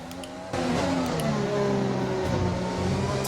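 Race car engine in F1 2020, the Formula One video game, driving at Azerbaijan's Grand Prix circuit, with a steady loud high-revving engine note and rising harmonic tones that jump louder after half a second and hold throughout.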